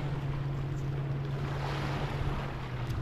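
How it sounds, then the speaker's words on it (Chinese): A speedboat runs out on Lake Eildon, its steady engine drone buzzing low beneath a wash of wind and splashing water, continuous and moderately loud from mid-distance. "我看到那边有人在玩快艇"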